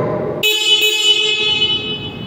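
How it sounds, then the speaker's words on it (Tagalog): A UCM Thor 200 ATV horn gives a loud, sustained blast after a brief pause, holding steady for about two seconds before trailing off. "tapos ang kanyang horn"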